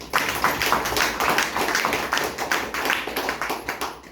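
An audience claps at a Safe Shop gathering, a fairly close burst of rapid, uneven hand claps that comes in sharply and carries on steadily, tapering a little toward the end.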